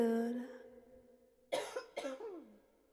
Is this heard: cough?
yes